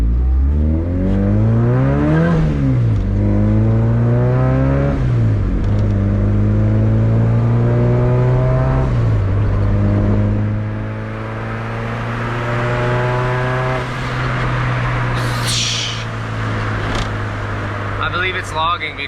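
Turbocharged Honda D16 in an EF hatch with a full 3-inch exhaust, revving in rising and falling sweeps, then holding a steady drone with a turbo whoosh near the end, while someone talks over it.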